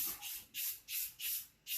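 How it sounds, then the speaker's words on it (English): An aerosol release spray is applied lightly to a mask for stone molding in a series of short, rhythmic hissing bursts, about five pulses with brief gaps, heard close and alone. "just lightly spray it"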